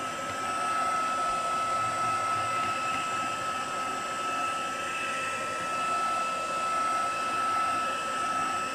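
A heat gun blows steadily while drying coloured texture paste on a card, a constant close whooshing hiss with a faint whine, unbroken and at an even loudness throughout, with no talking.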